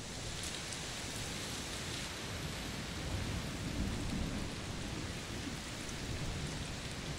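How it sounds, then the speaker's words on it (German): Heavy rain and rumbling thunder in the video game A Plague Tale Requiem, a dense continuous downpour with deep low rolls swelling through the middle, no voices. "Es regnet ganz schön doll."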